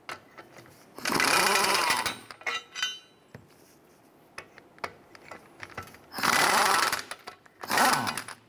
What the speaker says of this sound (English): Let's go ahead and remove our bolts.